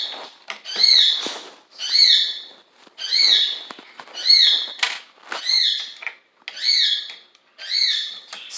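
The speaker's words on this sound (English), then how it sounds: "Sorry for the parrot's noise." A pet parrot calls over and over indoors, sharp, loud shrieking cries repeating roughly once a second in a steady rhythm, each followed by a short pause.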